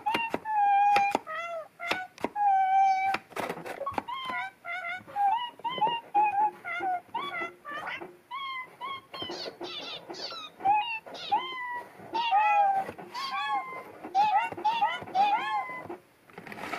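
Repeated high, tonal cat meows from a Nintendo Labo piano on Nintendo Switch, in quick succession, some drawn out and wailing, with a voice chattering between them.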